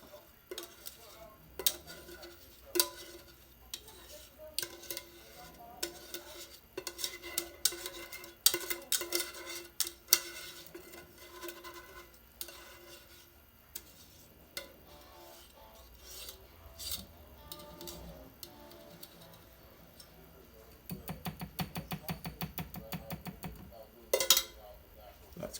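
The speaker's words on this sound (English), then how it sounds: "so you use your whisk. Go ahead and bring it all straight down" A whisk scrapes and rubs against a pan of thick corn cream in repeated short strokes, close and fairly clear, with a rapid stretch of brisk scraping near the end.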